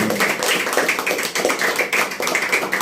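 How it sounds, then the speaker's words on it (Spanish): Church congregation applauding after a sermon, a dense patter of many hands clapping steadily throughout, fairly loud and close with a roomy wash. "Damos un aplauso al único que lo merece"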